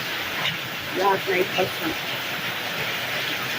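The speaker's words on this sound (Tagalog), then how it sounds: "Ang lakas ng ulan." Heavy rain pours during a storm, a dense, steady hiss that fills the whole stretch, while a voice briefly speaks over it.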